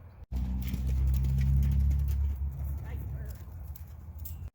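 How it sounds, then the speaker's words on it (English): A horse with its rider jumping an ascending oxer, the kind common at horse shows, its hooves clip-clopping over a few seconds with a brief pause and a voice talking over the footfalls. "So here's a video of me and Izzy jumping a ascending oxer."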